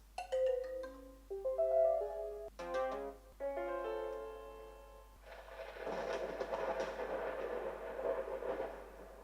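A LaMetric smart clock plays a short electronic notification melody of bright, stepped chiming tones for a follower loss, followed by a denser, buzzier burst of sound, all close and clear with no talking.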